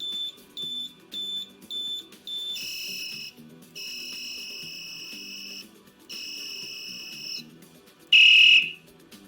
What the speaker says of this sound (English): number 6 is going to be the whistle alert.